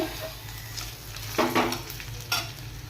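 Onions and potatoes fry in a pan and get stirred, with a steady sizzle under a low hum and a few sharper scraping stirs standing out near the middle and end.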